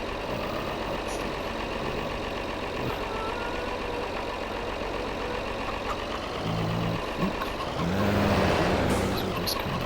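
A tractor engine in the video game Farming Simulator 22 drones steadily and fairly loud, a low rumble that swells slightly near the end, with a voice speaking faintly at moments.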